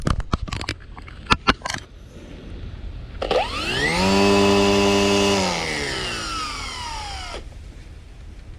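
A Makita XRU13Z cordless battery string trimmer spins up, holds a steady, fairly loud whine for a few seconds and then winds down, with a few sharp clicks before it starts.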